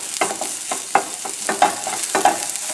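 Prosciutto ham, onions and butter frying in a pan, a steady close sizzle broken by repeated stirring scrapes at a fairly even rhythm, with no talk.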